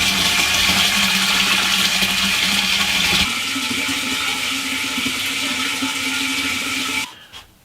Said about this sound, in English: So we're all ready to fill the tank up.